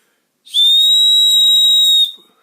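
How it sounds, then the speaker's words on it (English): One loud, shrill blast from the whistle on a Leatherman Signal multitool, held steady for about a second and a half, then cut off sharply. "everybody likes to blow on a loud whistle"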